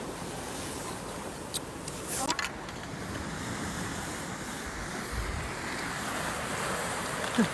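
Surf washes steadily along a seashore as the tide goes out, a continuous broad roar with wind buffeting the microphone and a few brief louder splashes.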